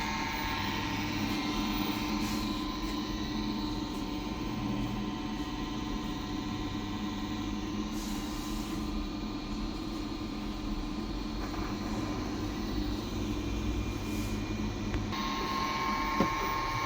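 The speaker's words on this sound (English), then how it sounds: "The fan is now running as it should." An LG washer dryer combo runs its drying fan as a steady, faint whirring hum with a low mechanical drone and occasional soft clicks throughout.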